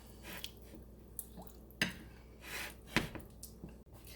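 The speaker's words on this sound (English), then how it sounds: "Stir up all your ingredients." Utensil clinking and stirring in a bowl of flank steak marinade with minced garlic and black pepper, several soft scrapes and clicks with brief wet squishes, close and quiet with no talking.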